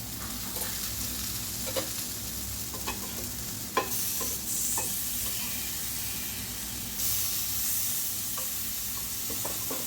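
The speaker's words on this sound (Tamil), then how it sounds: "மீதி இருக்க வாழைக்காயும் சேர்த்துட்டு இந்த மாதிரி நம்ம ஆயில் கொஞ்சம் மேலே அப்படியே விட்டுட்டு பரட்டி விட்டுக்கலாம்" Raw banana slices stir-fry in oil in a pan, a steady close sizzle and hiss running throughout, with occasional sharp scrapes and clicks of a spatula turning the pieces.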